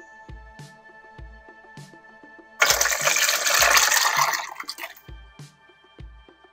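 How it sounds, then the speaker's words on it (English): A thick pineapple cranberry Jell-O mixture pours steadily into a mold for about two seconds, splashing, while a soft repeated tapping rhythm plays in the background. "Mix it all together and pour into your mold."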